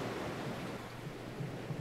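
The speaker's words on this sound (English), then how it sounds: "Look at these waves, man." Ocean waves in the sailing game Salt make a steady, broad wash of surf with a low rumble, continuous and moderately quiet, without distinct breaking crashes.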